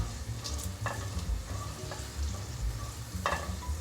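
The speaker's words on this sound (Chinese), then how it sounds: "冰糖有慢慢融化了，再继续炒。" Half a spoonful of rock sugar is stir-fried in a pan as it melts and caramelizes toward a dark sauce color for a vegan potato and seaweed dish, with a low steady sizzle and a few sharp spatula scrapes.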